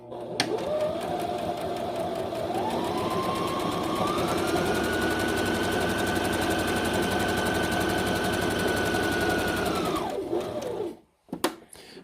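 A Brother ST371HD sewing machine stitches steadily with the pedal pressed, its fast mechanical whir rising in speed partway through and holding for several seconds before winding down and stopping.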